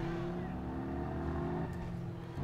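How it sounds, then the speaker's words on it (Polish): A loud car engine in the video game Watch Dogs Bad Blood drones steadily with a deep, continuous rumble, its pitch holding level before shifting slightly, with no gaps. "Ale głośne to auto."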